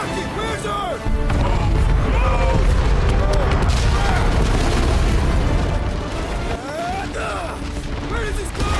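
Planted charges explode in the Guardians of the Galaxy video game: loud, sustained booming and crashing rumble that fills the scene, with game characters shouting over the blasts.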